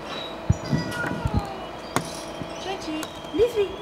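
A cat stuck in a roof gutter gives a few short, plaintive meows over outdoor background noise, with scattered thuds and a person talking nearby.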